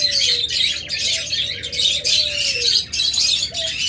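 A pair of big red-eyed lutino lovebirds chirps continuously in rapid, overlapping bursts of loud, close, high-pitched calls. A faint gliding tone and low background hum run underneath.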